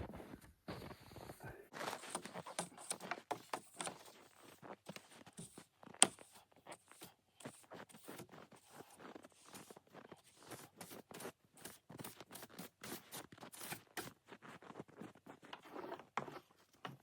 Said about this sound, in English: Got my broom, so let's get this done.